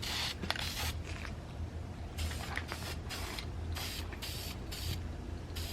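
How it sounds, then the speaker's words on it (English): Short hissing bursts of a spray paint can applying light coats to Toyota Supra MK4 interior parts, repeated in quick pulses with brief gaps, close by and fairly quiet. "So I'm just going to spray really light coats"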